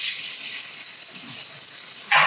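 Worcester-sauce-marinated salmon with black pepper sizzles in olive oil, a loud, steady high hiss close by that swells briefly near the end as the fish settles in the pan.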